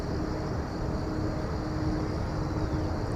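Garuda Indonesia airliner in a special anniversary livery arriving at Incheon airport, a steady distant jet engine roar, broad and unchanging for a few seconds, no speech.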